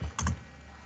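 A short burst of two quick keyboard keystrokes close up, then quiet room tone.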